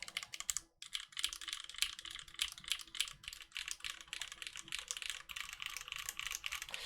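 Typing on a clacky Cycle 8 prototype mechanical keyboard fitted with vintage Cherry MX Black switches: rapid, close keystrokes, fairly quiet, with one brief pause near the start.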